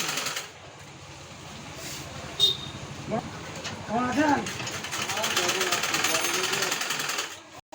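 A sewing machine stitching a grain sack runs with a steady mechanical whir and rattle, and a few voices talk over it.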